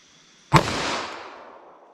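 A single sharp, loud gunshot from a .44 Magnum revolver with a 4-inch barrel fired into ballistics gel with a rib simulation, followed by a long ringing decay that fades out over the next second and a half.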